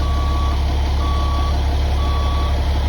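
A converted bus, or truck-based van conversion, edging a couple of feet forward with a steady reversing-style beep pulsing about once a second over a loud, constant engine rumble; no talking.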